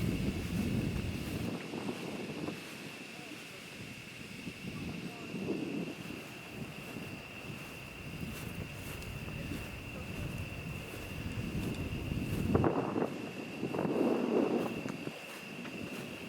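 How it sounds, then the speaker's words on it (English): Gusty wind blows across an open cemetery, a steady low rumble of wind buffeting the microphone with stronger gusts swelling near the end. "It's a little windy, so if you hear wind, it's just because it's really windy right now."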